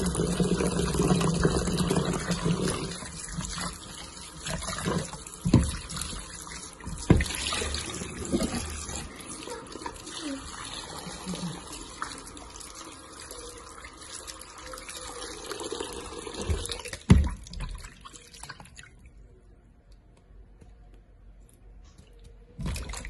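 Tap water runs steadily while fresh ginger is washed by hand, a continuous close splashing flow with small knocks and handling sounds, fading out near the end.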